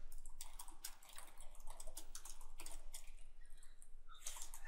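Rapid keyboard typing from the video game Frog Fractions, a steady run of light clicking keystrokes with a few louder bursts, fairly close and with no talking over it.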